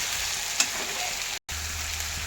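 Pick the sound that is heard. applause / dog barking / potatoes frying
potatoes frying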